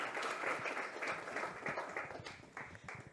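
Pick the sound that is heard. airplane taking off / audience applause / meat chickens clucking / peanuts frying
audience applause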